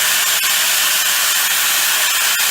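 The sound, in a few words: power tool cutting a mini bike frame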